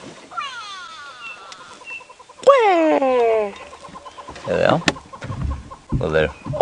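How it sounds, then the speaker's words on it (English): Birds alarm-calling at a raptor during a sunrise safari drive, sharp descending harmonic calls repeated in a few loud bursts near the start and middle, with a person talking briefly in the later part. "that's probably what these birds are shouting at"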